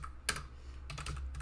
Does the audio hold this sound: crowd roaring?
no